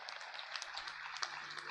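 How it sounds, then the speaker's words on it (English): An audience at a graduation ceremony at Father Muller Charitable Institutions in Mangaluru applauds parents and guardians, a faint, distant crackle of many hands clapping steadily throughout. "Let's give a round of applause to all the parents and the guardians"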